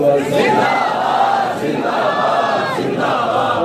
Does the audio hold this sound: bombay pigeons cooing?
no